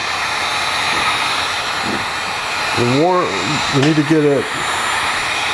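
A heat gun blows hot air to warm taped-down material, a constant close rushing hiss that runs the whole time while someone briefly talks over it.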